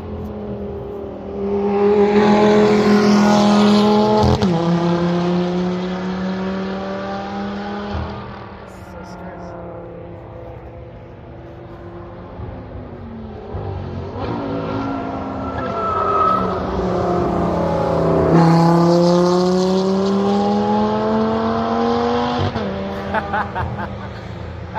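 A car driving at the Kyalami Festival of Motoring, with loud engine revving that rises and falls through several gear changes and some tire squeal, while people talk over it.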